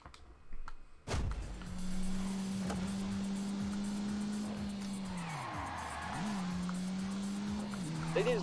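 A car engine in The Grand Tour Game racing video game drones steadily at one pitch for several seconds, dips, then revs back up, with a sharp knock-like burst at the start.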